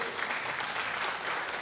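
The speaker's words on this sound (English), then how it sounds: "Please, let's put another sounding round of applause to appreciate it." An audience at a Lagos nursing school's 45th-anniversary celebration claps in a dense, even round of applause that holds steady throughout.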